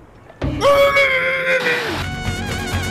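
A cartoon character from an animated competition series lets out a loud, sustained scream of over a second that starts abruptly and breaks off, followed by a noisy jumble of voices and sound.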